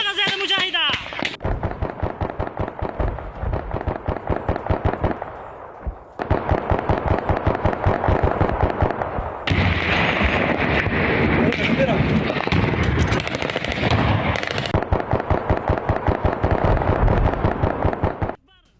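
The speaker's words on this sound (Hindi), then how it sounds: "बॉर्डर इलाकों पर अफगान सेना फायरिंग कर रही है।" Rapid bursts of gunfire from Afghan army border posts crackle in dense, rhythmic volleys with short pauses between strings of shots, loud and sustained, while a voice talks over parts of it.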